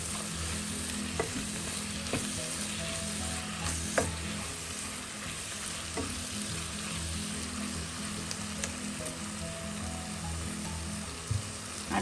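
Chicken masala for a Kerala-style chicken varattiyathu frying steadily in a pan as tomatoes are stirred in, a continuous close sizzle with scraping spoon strokes, no talking.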